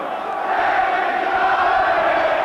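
A large football crowd roars steadily and loudly at a 1983-84 Oxford United v Everton match as Oxford take the lead, a dense sustained swell of cheering with no clear individual voices.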